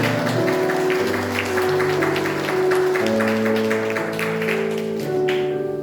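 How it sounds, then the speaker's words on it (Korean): A church congregation applauds to welcome a first-time visitor during a Sunday service. Dense, even clapping carries on for several seconds over sustained organ or keyboard tones. "한번 박수로 환영하실까요?"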